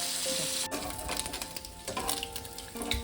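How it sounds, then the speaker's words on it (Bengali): Amudi fish frying in oil in a pan gives a steady close sizzle, with a few light metallic clinks from stirring and utensils during the short stretch. "আমি মাছগুলো ভেজে আর আপনাদেরকে দেখাচ্ছি।"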